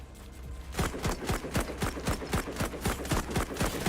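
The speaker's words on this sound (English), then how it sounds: "that was definitely rifle sounds, because mine sounds exactly like that" Rapid rifle gunfire in Memories of Mars, a steady automatic stream of sharp, evenly spaced shots, about five per second, loud and close for several seconds.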